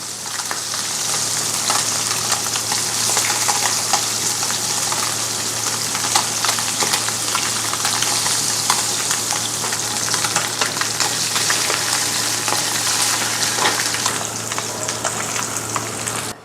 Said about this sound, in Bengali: আমি মাছটা ভাজি ভাজি রাখবো আর কি